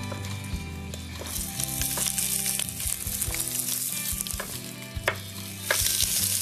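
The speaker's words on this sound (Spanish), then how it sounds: "Y debajo pongo los trozos de conejo, que es lo que más tarda. Lo ponemos en el fondo de la olla." Rabbit pieces fry in the bottom of a pot, giving a loud continuous sizzle with scattered pops, utensil knocks and stirring scrapes, close up and without speech.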